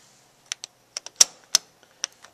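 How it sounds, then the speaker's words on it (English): Selection buttons on a 1964 Wurlitzer 2800 jukebox are pressed, giving about eight crisp mechanical clicks and clacks in an uneven sequence, close and distinct against silence. "And so I'm going to come over to the keyboard here and press T7."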